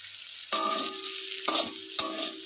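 Sugar being stirred into a water lily curry made with hilsa fish head in a pan, with three distinct scraping stirs over a soft simmering sizzle.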